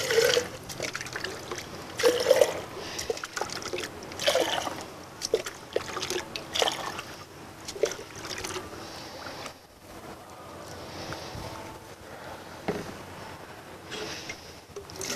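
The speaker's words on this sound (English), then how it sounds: "first we're going to put the water" Water poured into infiltration rings set in soil during a field test, producing a steady trickling and splashing that swells and eases in bursts over fifteen seconds, close by, with no talk.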